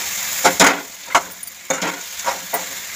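Pieces of yellow vam eel being turned in spicy masala in a pan, giving several scraping stirs over a steady frying sizzle, close and fairly loud with no talk.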